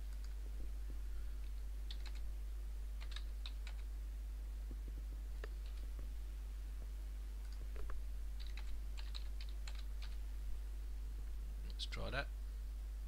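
Someone types a new password on a computer keyboard while setting up Linux Mint in VirtualBox, producing scattered, close clusters of soft key clicks under a low hum, ending with a louder sharp tap.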